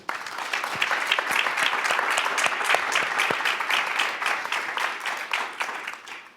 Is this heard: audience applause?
yes